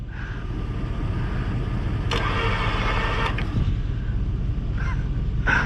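A stuck plow truck being pulled out by another truck, with a steady close engine drone carrying on throughout and short higher bursts of strain rising over it.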